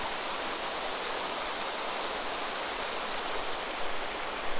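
A clear mountain valley stream with a small waterfall in Hongcheon, Gangwon-do, pours in a loud, steady rush of broadband water noise, close by and uninterrupted, with no voices.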